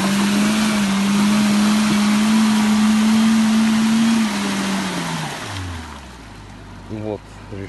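A Pajero Mini on all-terrain tyres driving hard through mud, its engine droning loud and steady before the revs drop away, with splashing mud and talk over the top.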